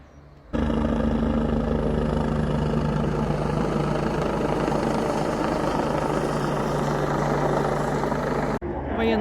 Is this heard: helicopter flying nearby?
yes